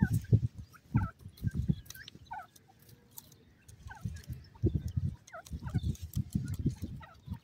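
Iranian partridge (teetar) calls repeat in short rising chirps over a dense layer of nearby fowl clucking and gobbling, with birds calling on and off throughout.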